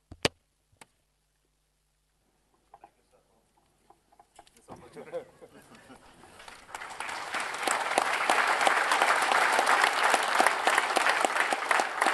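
After a mostly quiet start with a few isolated clicks and faint voices, applause swells in the ISRO control room at Sriharikota during the Chandrayaan-3 LVM3-M4 launch, building into sustained, loud clapping and cheering that carries to the end.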